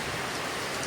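Heavy rain falling on a terrace roof at a dreamhouse in the Philippines, a dense, steady wash of drops, close and constant without a break.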